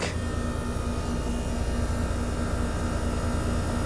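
A 2011 Trane XR15 3-ton R410A heat pump compressor runs in heat mode, a loud steady whooshing roar with a constant low hum, heard close up.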